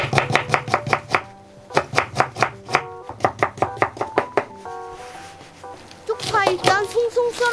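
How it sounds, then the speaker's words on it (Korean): A knife julienning a radish on a cutting board, a string of quick, crisp, evenly spaced chops in several bursts, with a brief pause and some rustling handling toward the end. "무 한 개 채로 썰어줍니다"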